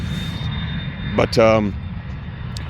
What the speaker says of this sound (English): Sorry about the airplane noise. I'm right by an airport here